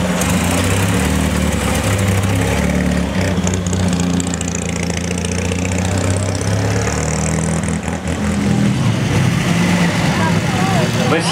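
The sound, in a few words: Bugatti Type 40 Torpedo car engine running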